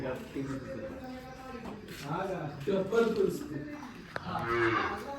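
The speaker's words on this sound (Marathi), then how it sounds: "बैल आणि वासरू" A cow moos in drawn-out, low calls while people talk nearby, with a bull and calf present and farmyard sounds around them.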